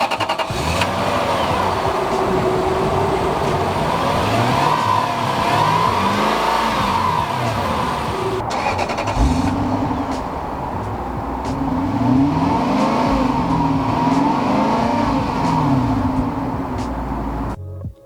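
A 2003 Lexus SC430 coupe with a V8 engine runs and revs, smooth mid-pitched engine note rising and falling in repeated throttle blips, close and loud with no talking.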